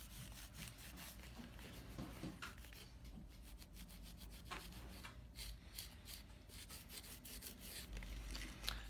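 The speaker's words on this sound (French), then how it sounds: "On peut utiliser de l'alcool avec un chiffon pour nettoyer tous les résidus de colle." A cloth dampened with alcohol scrubs leftover glue off the chassis of a Samsung Galaxy S5 Neo phone, a close, quiet, continuous rubbing with quick short strokes and no talking.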